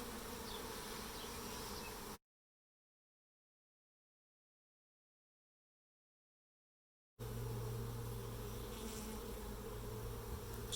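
Honeybees buzz densely inside a hive, a loud, close, continuous drone that stops abruptly for several seconds of silence, then returns.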